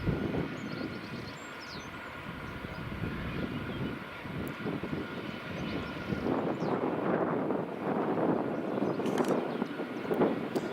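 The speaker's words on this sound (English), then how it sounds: "Business jet that just landed, the Falcon, is just about to taxi past." Dassault Falcon business jet taxiing past at an airport, its left engine's reverse-thrust buckets still deployed, giving a steady broadband jet roar that swells as it draws nearer, with no talk over it.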